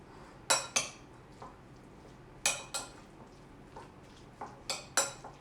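Spoon clinking against a bowl while stirring chutney mix for oats chaat, a few sharp metallic taps in irregular clusters, close and fairly quiet, no talk.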